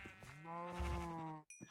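A cow in a video game gives one drawn-out, tonal moo lasting over a second, loud and close with no talking, and a short click follows.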